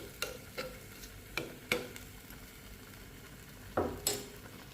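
Paneer masala being stirred in a pan, with several separate scraping strokes of a spoon against the pan over a soft background sizzle.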